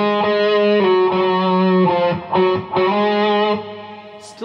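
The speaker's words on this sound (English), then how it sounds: "So if I put on my stereo reverb" Distorted electric guitar chords strummed in a steady rhythm through a Digidesign Eleven Rack with stereo reverb, wide reverb lingering after each hit, played alone and fairly loud.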